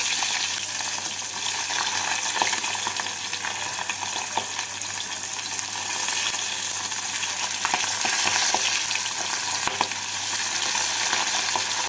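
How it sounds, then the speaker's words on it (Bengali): Parshe fish fry in hot oil in a pan, a continuous loud sizzle and crackle with occasional scraping knocks as the pieces are flipped, close and steady without any speech. "মাছগুলিকে খুব বেশি কড়া করে ভাজা যাবে না টুকুটি উল্টে পাল্টে লাল করে ভেজে নিতে হবে"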